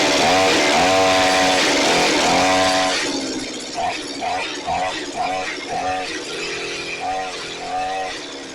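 A Shindaiwa T230X weed trimmer engine, freshly repaired with its spark plug back in, fires up loud and close with a harsh, buzzing two-stroke roar, then settles into a choppy, uneven sputtering run.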